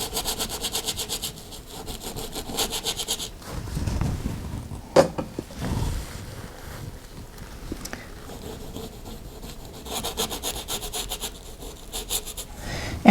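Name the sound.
scrubbing paintbrush on canvas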